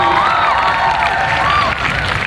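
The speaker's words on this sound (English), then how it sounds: "Round of applause for Jackie" A crowd applauds and cheers for a speaker at an outdoor Labour Day rally, loud sustained clapping with whistles and shouts rising over it, continuing without a break.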